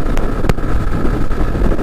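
A new 2023 Bajaj Platina 110 drum-brake H Gear motorcycle cruising at about 80 km/h, heard as a steady, loud rush of wind and road noise with the engine buried underneath and no talking.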